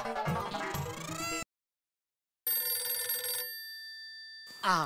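A telephone rings in bright electronic bursts, broken by a brief silence, then rings again; close and loud, with no talking.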